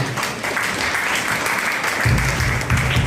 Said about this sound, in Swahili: Tumpe Yesu makofi.